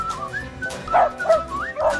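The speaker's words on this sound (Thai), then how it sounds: "เป็นสุนัขตำรวจ police dog" A battery-powered toy police dog gives several electronic barks and whining tones in quick succession, close and fairly loud.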